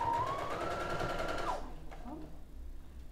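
Sewing machine stitching a 1/4 inch seam on a paper pieced pattern, a steady close mechanical whir for about a second and a half that then stops, leaving faint handling noise.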